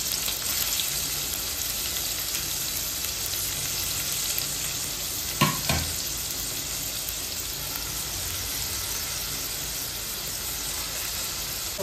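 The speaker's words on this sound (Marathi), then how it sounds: "आता इथे आम्ही तेल टाकलंय. कांदा घालणार." Onion frying in hot oil, a constant even hiss of sizzling with one brief clatter partway through, no talking.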